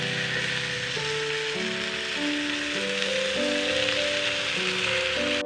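Tandoori chicken sizzles steadily in a pan just after being flipped, a dense continuous frying hiss with a tonal background melody running beneath it.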